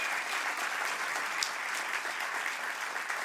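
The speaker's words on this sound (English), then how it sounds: "Let's give her another round of applause." A room of guests applauds the new Cook County State's Attorney, Eileen O'Neill Burke, at her swearing-in celebration, with an even, sustained spread of clapping heard at a moderate distance and no talking.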